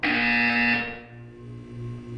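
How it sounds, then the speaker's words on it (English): A harsh electronic buzzer from the Portal 2 video game blares loudly and steadily for under a second, then cuts off, leaving a low droning tone in the background. "You will hear a buzzer."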